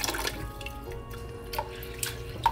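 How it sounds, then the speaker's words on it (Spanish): Rice being rinsed in a bowl of water for sushi: soft sloshing, light drips and small splashes, quiet and close, with faint background hum and no talking. "esta es la última vez que voy a enjuagar el arroz"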